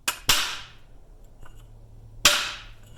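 A hammer strikes a pipe to drive a bearing onto a Polaris RZR prop shaft, giving two sharp metallic bangs with a lighter tap between them, close and loud.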